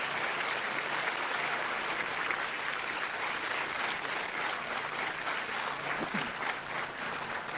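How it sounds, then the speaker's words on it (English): Sustained audience applause at a groundbreaking ceremony for a new women's and children's hospital in Ohio, a dense, steady wash of clapping that holds at an even level for the whole stretch without any voices. "I think that deserves a big round of applause."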